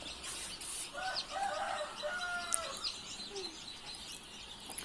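Faint high-pitched chirps and peeps from chicks come repeatedly and overlap against a soft background hiss, with no voices.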